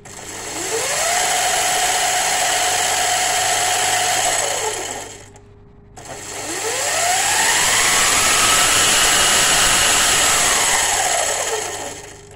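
A Mototec 60V 2000W electric scooter motor, upgraded to a lithium battery, whines up to a steady high hum, drops briefly to quiet, then spins up again in a rising, sustained electric whir, with no talking.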